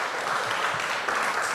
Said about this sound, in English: maybe we can just, give him a clap to congratulate him on this achievement.